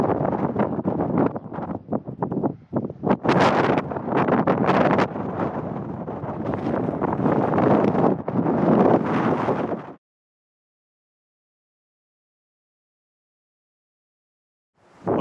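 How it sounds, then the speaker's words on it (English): Strong, gusty wind buffets the microphone for about ten seconds with loud rumbling roars at the top of a hill at Chenini near Tataouine, Tunisia, then abruptly cuts to silence. "Hopefully it's not too windy"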